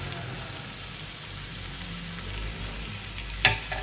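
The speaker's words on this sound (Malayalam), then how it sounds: "ഇട്ട് കൊടുത്തിട്ട് നന്നായിട്ട് നമുക്കൊന്ന് ഇളക്കി യോജിപ്പിച്ചെടുക്കണം" Capsicum biryani masala filling, with coriander leaves added, is stirred in a hot pan, giving a constant close sizzle and frying hiss and a single sharp clink of the spoon near the end.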